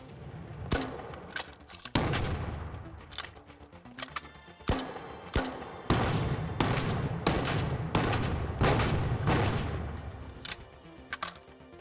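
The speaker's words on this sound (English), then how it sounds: "you have the M32 grenade launcher, a timed grenade launcher with larger, high explosive shots" M32 timed grenade launcher firing high explosive rounds in the game The Finals: a rapid series of sharp, loud launches and blasts with echoing tails, punctuated by mechanical clicks and reloading between volleys.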